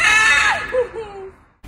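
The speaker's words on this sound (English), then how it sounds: "This bird was loud. It kept screaming." A macaw parrot's loud, harsh scream bursts out, then breaks into shorter wavering squawks that fade off, with no talk.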